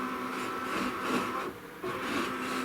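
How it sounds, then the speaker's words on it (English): Embroidery machine stitching a placement line on quilt fabric, a steady mechanical hum with rhythmic needle pulses that briefly dips and then resumes, close and continuous with no talk. "next it's going to stitch the placement line for the fabric on all 3 of them"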